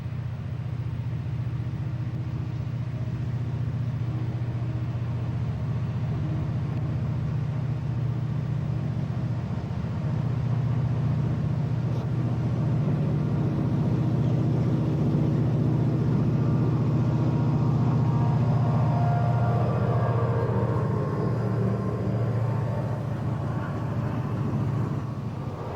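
Milwaukee Road diesel locomotives with a combined 14,000 horsepower notch up to accelerate a train toward St. Paul Pass, a steady loud low engine drone building gradually over nearly half a minute.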